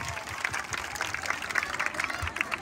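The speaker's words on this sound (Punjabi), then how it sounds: "ਬੀਬੀ ਬਹੁਤ ਨੱਚਿਆ, ਗੁਰ ਤਾੜੀਆਂ ਮਾਰੋ ਬੀਬੀ ਨੂੰ।" A crowd claps for a woman who has just danced at a Punjabi Teeyan women's gathering, with dense, steady applause of many hands at moderate distance and no clear voices.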